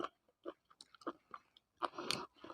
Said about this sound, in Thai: แล้วจะเด้ง กรุบกรุบกรอบกรอบ แบบได้ยินเสียงเคี้ยวเลยอะ